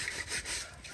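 A smoke-blackened cooking pot from firewood cooking is scrubbed hard in a village setting, giving a faint, brief, gritty rubbing scrape without pauses.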